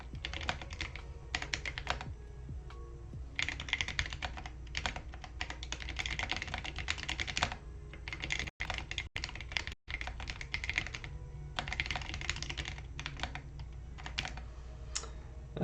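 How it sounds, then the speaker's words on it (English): Steady typing on a computer keyboard, clustered key clicks in bursts with brief pauses, close and fairly quiet over a low room hum, no talking. "let's see if we can do some typing here"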